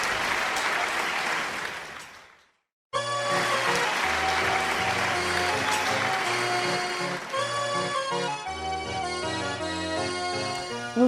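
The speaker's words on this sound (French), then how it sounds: "On peut les applaudir bien fort" A small theatre audience claps warmly for a couple of seconds before the applause fades out. After a brief silence, a melodic music piece begins and continues.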